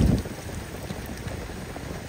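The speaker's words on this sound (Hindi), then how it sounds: "भाई बाहर बारिश कितनी आ रही है, ये आप मेरे पीछे से देख सकते हो" Heavy rain falling outdoors makes a steady, broad hiss with some wind-like rumble, continuous and fairly close, with no voices.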